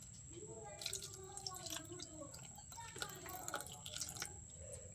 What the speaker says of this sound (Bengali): এবার অল্প করে জল দিয়ে দেবো